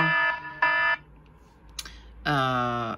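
An alarm sound effect from the iMovie sound library sounds as harsh buzzing tones: two short bursts, a pause broken by a faint click, then a longer blast, all loud and close with no voice over them.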